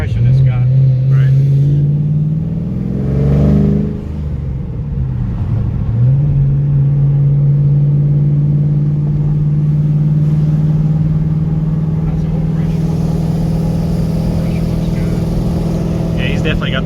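A Chevrolet Camaro with a 416 stroker engine idles loudly up close with a deep, steady rumble, with a quick rev swelling and dropping near the start before settling back to a lumpy idle, while people talk over it.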